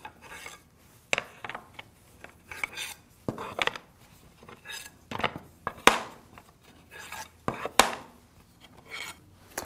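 Wooden slats for a tambour door are flipped end for end one by one, producing irregular close clacks and knocks of wood on wood with soft rubbing between them.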